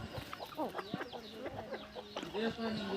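Roosters and hens in a poultry breeding unit cluck and call close by, several overlapping birds with sharp rising and falling calls and a steady rustle of the flock underneath.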